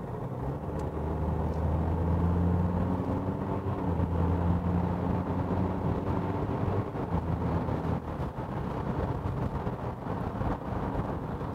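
A DS3 with a 1.5-litre diesel and eight-speed automatic accelerating smoothly, heard from inside as a steady low engine drone and road rumble that holds for several seconds without voices.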